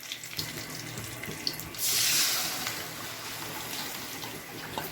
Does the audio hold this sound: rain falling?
no